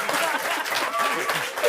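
Applause from the audience of a live murder-mystery comedy show fills the room without a break, a dense and steady wash of many hands clapping.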